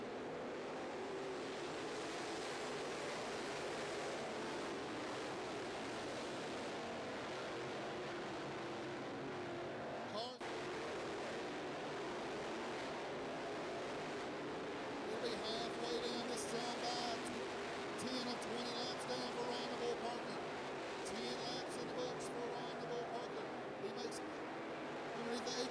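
Race cars circle an oval speedway at Carolina Speedway, a steady broadband engine roar and rumble sweeping past, with a commentator's voice talking over the racing throughout.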